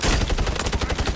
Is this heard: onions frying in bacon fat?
no